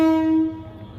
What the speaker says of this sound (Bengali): ওই ট্রেনটা আসতেছে গাইস।